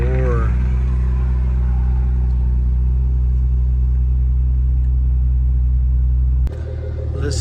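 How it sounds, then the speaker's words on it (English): A Porsche Macan S engine and exhaust give a loud, steady, deep rumble held for several seconds up close, then drop abruptly to a lower, quieter idle. "Listen to that engine and those muffler sounds."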